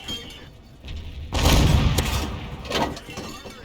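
One heavy boom from an SU-76M's 76mm tank gun in a video game, fairly loud and sudden, with a rumbling tail that fades over a couple of seconds after a quiet start.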